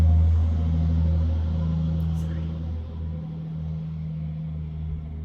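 A big truck passes by outdoors, a loud low rumbling engine roar that is strongest at the start and eases off slowly, with a person talking over it.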